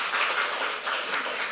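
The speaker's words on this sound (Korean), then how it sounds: "우리 박수로 격려하겠습니다." A short burst of steady clapping from a gathered audience, fairly soft and even, with no voices over it.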